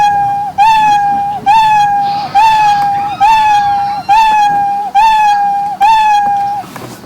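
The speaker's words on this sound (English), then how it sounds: "For the sound, let's play sound meow." Cartoon cat meow sound effect from Scratch, repeating seven times in a steady rhythm, each a bright, loud, identical meow with almost no gap between them.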